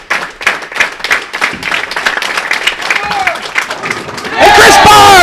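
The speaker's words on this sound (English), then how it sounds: "And they're going to clap for him." Spectators at the 2014 QubicaAMF World Cup bowling semifinal applaud bowler Chris Barnes, scattered claps and crowd murmur under a commentator's voice, then swelling into loud cheering and whistles at the end.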